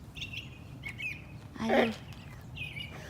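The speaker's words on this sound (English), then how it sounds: "Can you hear the birds chirping?" Small birds chirp up in the trees on a quiet, peaceful day, with several short, faint high calls scattered over a soft background hiss and one brief louder call near the middle.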